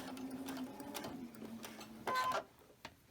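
A sewing machine runs steadily with a low motor hum and rapid stitching, with a brief louder metallic clanking burst near the end from a loose pin-like part.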